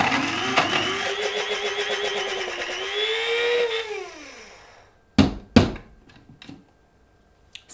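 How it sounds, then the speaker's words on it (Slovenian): Stale, slightly moist bread ground in a coffee grinder to clean it, a loud close motor whine that rises in pitch and winds down after about four seconds, followed by a few sharp knocks and clatters. "Po mletju kave je najlažje, da se v mlinček da star kruh, tako da je še malo vlažen"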